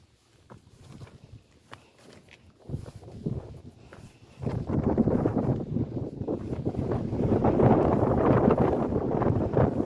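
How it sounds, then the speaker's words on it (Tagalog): Strong wind on the Po Toi Islands, Hong Kong, roars and buffets the microphone, starting quieter and swelling into a loud, rumbling gust halfway through that keeps blowing. "Rinig ko yung hangin. Oh! Lakas ng hangin."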